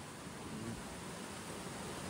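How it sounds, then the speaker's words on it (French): Steady broadband hiss of wind and rain, a constant rushing wash without breaks, moderately quiet and close, no voices. "j'entends le vent. Et la pluie, oui."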